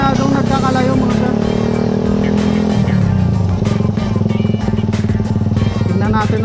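A carbureted Suzuki R150 motorcycle accelerates hard, its loud, close engine note climbing in pitch, dropping with a gear shift and climbing again in a buzzing, rapid pulse.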